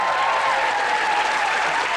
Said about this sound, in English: So give him a wonderful applause.